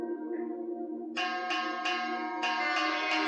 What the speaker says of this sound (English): Ignore that bell.